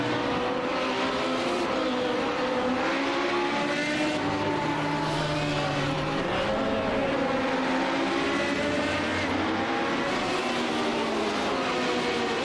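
Race cars lapping Okayama in an iRacing sim race, several engines droning and shifting pitch together in a continuous close, loud blend with no talk.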